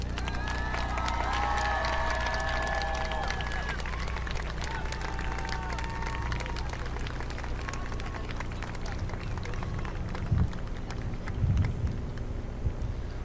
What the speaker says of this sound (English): let's give our newest Oiler graduates a huge round of applause